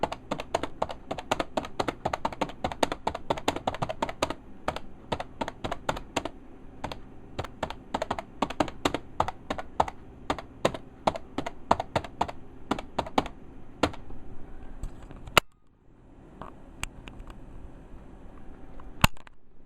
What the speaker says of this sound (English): we can maybe give a little bit of a sample of the typing on this keyboard